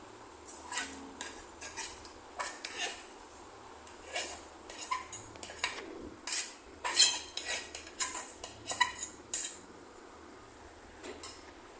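A spoon scrapes and clatters inside a pot as boiled dal is stirred into sago khichdi, in quiet bursts of metallic clinks and rubs with no talking.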